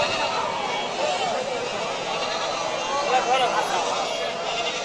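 Goats bleat amid the steady crowd murmur of a rural goat market, with people talking throughout and animal calls rising above the hubbub.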